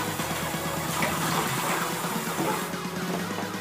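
Water rushes and splashes continuously at close range, a steady loud gushing with a low humming tone underneath.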